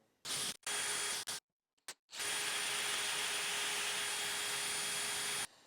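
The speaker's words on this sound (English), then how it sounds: "I have a long drill and I start in the pocket and I just go all the way through." A long drill bores cable channels through a guitar body, starting in the neck pocket. Close, loud whirring comes in two short bursts, then after a brief pause runs steadily for several seconds with a faint high whine.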